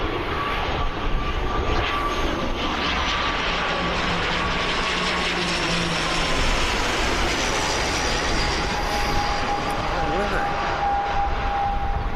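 An airplane landing at Birmingham Airport makes a sustained, loud engine roar with a whining tone that shifts in pitch, with people talking over it.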